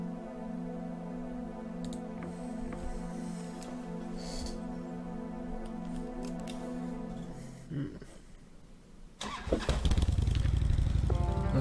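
A 1976 Corley Motors motorcycle in the Kathy Rain adventure game starts up near the end, a loud rough engine roar bursting in after a steady droning hum and a few small clicks.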